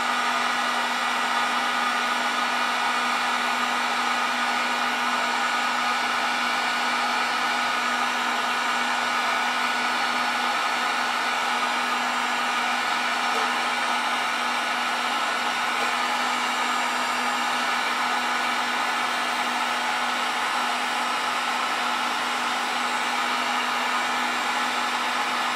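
Heat gun blowing hot air onto heat shrink tubing at a workbench, a steady, even whine with a constant hum that continues unchanged for the whole stretch, no talking over it.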